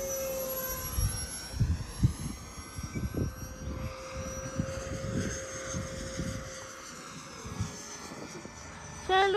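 An XFLY 80mm T7A electric ducted-fan RC jet climbs overhead with a rising, whooshing fan whine and sweeping tones, while people talk close by throughout.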